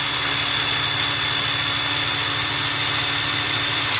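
A DEVETECH CIW cordless impact wrench runs freely without load, giving a loud, steady high-pitched motor whine with a constant buzzing hum throughout, very close, with no talking.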